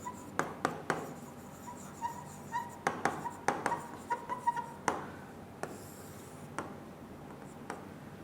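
Pen or chalk scratches out a handwritten equation in faint, irregular taps and short strokes, clustered in bursts then thinning out, quiet and close with no talking.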